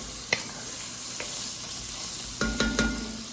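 Steady sizzle as butternut squash and vegetables fry in bacon fat in a Dutch oven, with a few distinct knocks and scrapes of a wooden spoon stirring, a cluster of them near the end.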